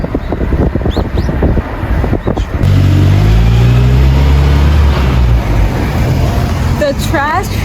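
A clean garbage truck driving past on a quiet street in Kyoto, its low engine rumble rising loud and steady midway through, with voices talking at the start and a few birds chirping.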